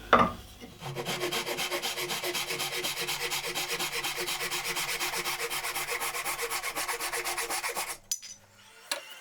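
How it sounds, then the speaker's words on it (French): A hand saw cuts the last wooden part of a kerfmaker jig, with fast, even back-and-forth rasping strokes for about seven seconds, close and steady with no talking. "Donc je m'apprête à couper la dernière partie."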